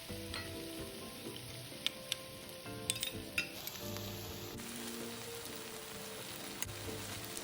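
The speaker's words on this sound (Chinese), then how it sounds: "倒入叉烧内馅拌炒，炒至食材收干水分后即可离火。" Char siu bao filling is stir-fried in a wok until the liquid cooks off, with a continuous soft sizzle and scattered clinks and scrapes of the utensil against the pan, close and quiet, no talking.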